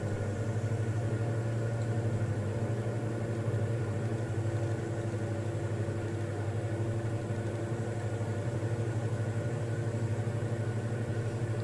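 Aircraft engine droning inside a cockpit in Microsoft Flight Simulator, a steady low hum with even tonal bands that holds throughout at moderate loudness, with no talking.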